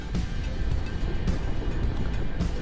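A car climbing a dark, forested hill road at around 55 km/h, with loud, continuous road and wind rumble close inside the cabin and no break in the noise.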